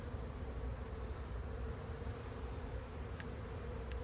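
Steady, low droning buzz of many honey bees during a swarm cutout from an owl house, constant and close, with no talking.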